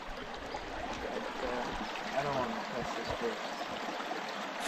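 A river rushes past a hiking trail crossing in the Maine wilderness along the Appalachian Trail, a steady broad wash of flowing water, close and continuous, with faint voices mixed in.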